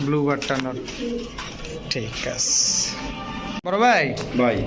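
Black Spanish Pouter pigeons coo in repeated deep, throaty bursts close by, mixed with someone talking loudly between and over the calls at a bird market.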